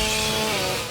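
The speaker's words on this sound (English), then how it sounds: "she eventually whips out a chainsaw to attack him" A chainsaw roars in the slasher film Halloween: Resurrection, a steady, dense, loud engine drone holding for under a second with no pauses.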